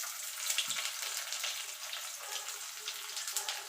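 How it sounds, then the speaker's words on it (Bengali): Onions frying lightly in oil for Bengali masoor (red lentil) dal with garlic, a steady soft hiss and crackle close by with no talk. "পেঁয়াজটা দিয়ে পেঁয়াজটা একটুখানি হালকা করে ভেজে নেব।"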